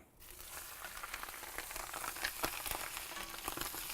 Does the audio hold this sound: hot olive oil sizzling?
yes